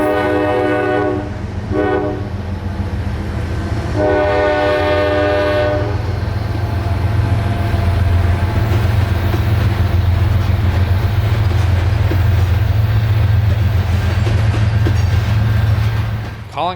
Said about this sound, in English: 44R is a loaded grain train